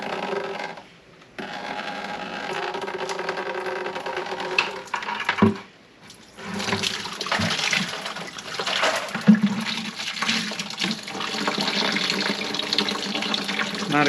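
Coolant trickles and splashes from the radiator of a 2018–23 Can-Am X3 into a catch pan, a steady watery hiss with brief pauses and a few louder splashes, close by, with no talking.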